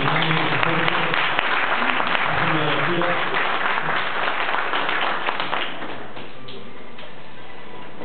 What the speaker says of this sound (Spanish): Le damos un aplauso a Abel